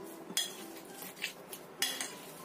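A utensil scrapes and clinks against a bowl while seasonings are stirred into a potato mixture, giving a few sharp taps amid soft, quiet stirring.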